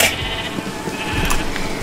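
Sheep bleating in a farm video game, a loud sustained bleat over steady background ambience, with no talking.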